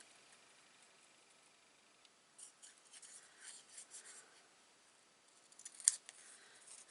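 Scissors fussy-cut a paper note card in quiet, irregular snips and rustles that start after a short hush and cluster toward the end, with no talking.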